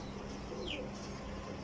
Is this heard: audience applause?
no